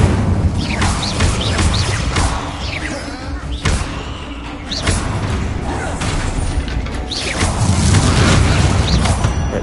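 Incendio fire spell cast in Hogwarts Legacy, a loud roaring burst of flame with crackling booms that swell and fade over several seconds, no voices.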